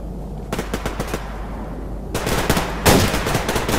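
Gunfire in the video game Survarium, loud close bursts of rapid automatic fire in rhythmic volleys, pausing briefly and resuming with heavier, denser shooting toward the end.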